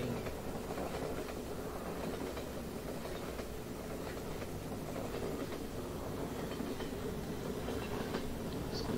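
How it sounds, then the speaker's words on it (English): Train rolling past in the Half-Life 2 game, a steady rumbling clatter of wagons with faint rhythmic wheel clicks, loud and continuous throughout with no talking. "you gotta wait till the trains come on?"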